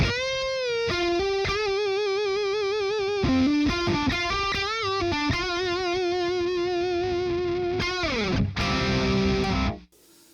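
A distorted electric guitar through a Schuyler Dean PT-109 neck humbucker plays a smooth, sustained lead line with slides and bends, loud and unaccompanied, cutting off abruptly at the end.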